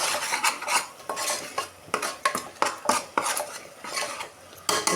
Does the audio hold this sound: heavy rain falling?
no